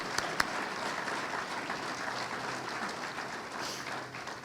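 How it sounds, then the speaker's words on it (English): Audience applause at a chamber of commerce annual meeting in Rowan County, a steady broadband wash of many hands clapping for several seconds, moderately distant and fairly quiet, with no talk over it. "If we can give them all a round of applause"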